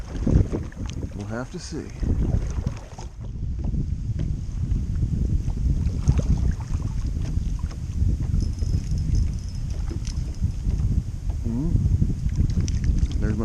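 Wind gusts steadily across the microphone outdoors on a bay during fishing from a boat, a rough low rumble that never lets up, with someone speaking briefly over it.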